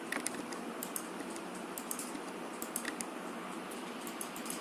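Computer keyboard keys tapped in quick bursts while a typed pattern is erased, faint clicks scattered over a steady background hiss.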